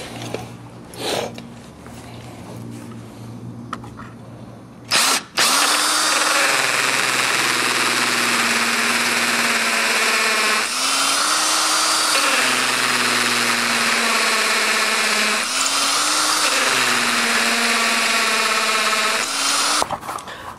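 A power drill drives blue screws into a door, whining loudly in three long bursts with pitch rising as each screw bites, preceded by a few short clicks and trigger pulls.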